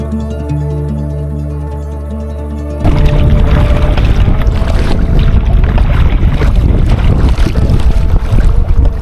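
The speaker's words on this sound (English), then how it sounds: "This wind is gonna be really not fun." Strong wind buffets a small sailboat on Plum Creek Canyon Reservoir in Elwood, Nebraska, with loud, steady roaring gusts and water noise. A quieter tonal hum comes first, then a sudden jump into full, rough wind noise.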